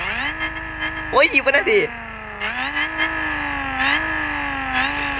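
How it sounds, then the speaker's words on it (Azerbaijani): Car engine revving in the mobile game Car Parking, a steady engine drone that rises and dips in pitch through several revs, with a brief voice exclaiming over it near the start. "Gəlin birinci maşının səsinə baxın."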